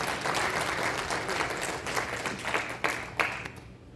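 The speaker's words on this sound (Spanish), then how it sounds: "Démosles un aplauso." A round of audience applause during a talk, dense clapping that starts full and gradually thins, with a few sharp individual claps near the end as it fades out.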